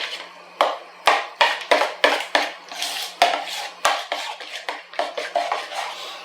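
A spoon scraping and clattering against a dish as fresh parsley is stirred into a spaghetti bake mixture, in rhythmic, repeated strokes heard up close with no voices.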